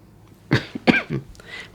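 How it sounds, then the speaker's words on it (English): Someone coughs a few times in short, close bursts, two stronger hacks followed by a softer one, with quiet between them. "Trying not to cough."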